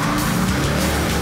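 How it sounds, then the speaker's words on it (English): Dodge Charger, a big heavy high-performance car, roaring loudly up close with its engine as the tires squeal and skid continuously throughout. "The new Charger is one badass machine."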